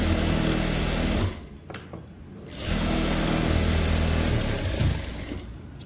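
A sewing machine stitches a blouse in two runs of steady, fairly loud mechanical whirring, broken by a short pause where it stops.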